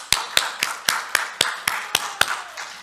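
A few people in a church congregation clap in a sparse, steady rhythm, about ten distinct claps spaced roughly evenly, close and fairly crisp with no talk over them.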